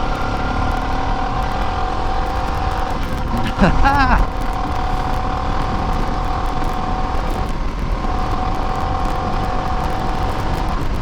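A Suzuki DR650 dual sport motorcycle cruises in sixth gear at about 50 mph, a constant engine drone with wind rush and a brief swell in the middle, while a rider talks over it.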